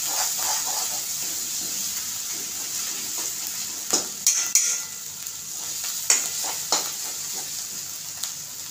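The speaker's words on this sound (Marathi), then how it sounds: "चांगलं तेल सुटेपर्यंत आपल्याला भाजायचं।" Black-eyed pea masala roasts in oil with a steady close sizzle, broken by several sharp clinks and scrapes of a spoon against the pan around the middle and later, with no talking.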